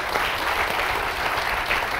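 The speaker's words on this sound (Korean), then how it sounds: "박수 부탁드리고요" Audience at a youth talk concert claps steadily, a thick, continuous wash of applause holding at an even, fairly loud level for the whole stretch.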